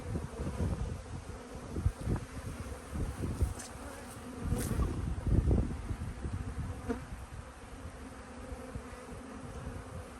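Honey bees drone and buzz around an open hive during an inspection, a dense layered hum with individual bees swelling louder as they pass close, continuous throughout with no talking.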